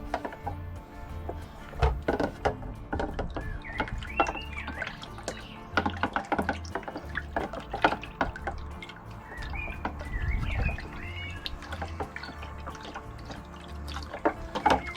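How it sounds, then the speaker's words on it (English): A wooden spoon scrapes and taps through chicken and woodland mushrooms in a pan, giving irregular light clicks and soft wet squelches at close range for the whole stretch. "What I'm going to do now is give this a bit of a stirring up."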